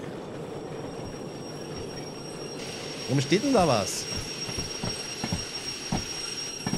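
A locomotive slows in the Derail Valley train simulator, with a rising metallic brake squeal over the low rumble of rolling wheels and clanks. Someone speaks briefly near the end.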